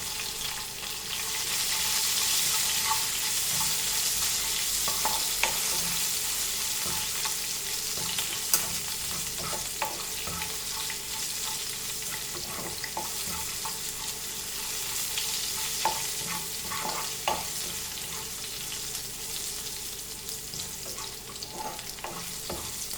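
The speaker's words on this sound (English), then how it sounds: "Now we'll add our green chilies to this and fry it nicely." Green chilies frying in oil in a pan for sabudana khichdi, a steady loud sizzle with occasional stirring scrapes and pops, continuous and close.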